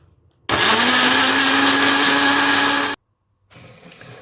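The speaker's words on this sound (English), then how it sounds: "squeeze out all the garlic and blend" Chilies and garlic whir in a kitchen blender for about two and a half seconds, a loud steady motor drone that starts and stops abruptly, followed by quiet room noise.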